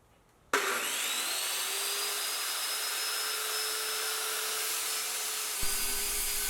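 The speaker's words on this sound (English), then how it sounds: "when I was ready to cut, I set my circular saw to the proper depth so my blade would cut through the wood" Circular saw cutting plywood, the motor starting abruptly and holding a loud, steady whine with a sustained tone as the blade runs through the sheet, then a slight shift near the end as the cut finishes.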